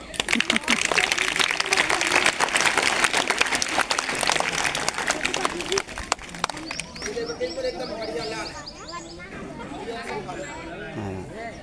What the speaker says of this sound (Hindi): चलो ताली बजा दो बेटे।